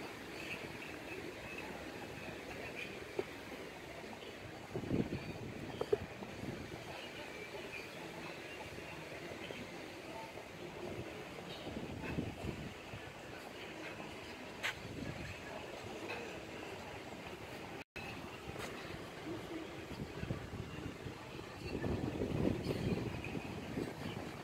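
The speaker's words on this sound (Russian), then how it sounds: "И ветер очень сильный на набережной." Steady blustery wind roars across the microphone on the Yalta seafront in December, with low rumbling gusts swelling and easing throughout, loudest near the end.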